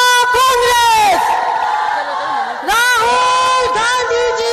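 A large crowd at a women's political party event cheers for a book unveiling with loud, drawn-out chanted shouts that rise and fall in waves, dip briefly, then surge again.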